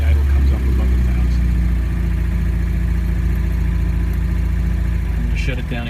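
A 1967 MGB GT engine idles steadily just after starting, a loud, close low rumble that holds even and fades slightly at the end, with no talk over it.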